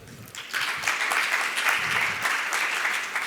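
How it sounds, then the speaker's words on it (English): A room full of people breaks into loud applause, building quickly and holding steady as a dense wash of clapping. "Let's welcome him on stage with a huge round of applause"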